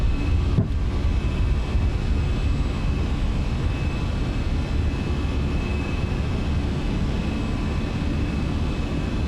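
Airplane taking off in a flight simulator game, a loud steady engine roar with broad rumbling noise holding level throughout, one sharp click early on.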